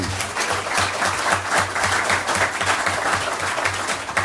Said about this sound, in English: Another round of applause for Zadie